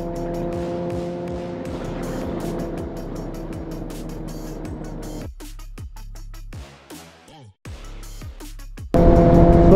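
Suzuki Hayabusa motorcycle engine revving hard through the gears on a top-speed run in third gear, a loud sustained roaring whine with brief drops at shifts, then a surge near the end.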